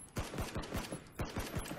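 Rapid gunfire in the battle royale game PUBG, a burst of sharp shots in uneven quick succession, loud and close with brief gaps between volleys.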